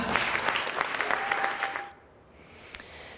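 Warm applause from an audience at an Italian local news event, dense clapping that fades out after about two seconds, with faint scattered claps afterward.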